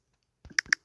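A few quick keystrokes on a computer keyboard, four or so crisp clicks in under half a second, faint and close against silence.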